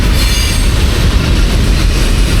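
Railcars roll past on the tracks through Daingerfield, Texas, a loud, close, steady rumble with squealing wheels and clickety-clack running the whole time.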